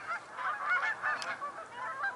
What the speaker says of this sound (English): the geese over there